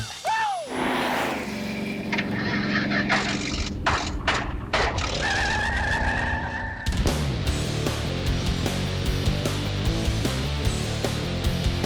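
The Roadkill ramp truck revs hard through a smoky burnout, its engine roaring loud and rough with rising and falling pitch, joined by a sudden louder surge midway.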